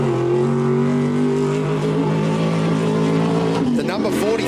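David Beavers' Porter desert race car, number 45, launches off the start line at the Finke Desert Race prologue, its loud engine note climbing steadily through the gears, close and continuous with a commentator talking over it.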